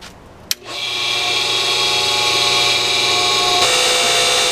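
An old in-ground pool pump motor switches on with a click and runs loudly and steadily, a harsh whining drone with air-leak hiss, close and alone.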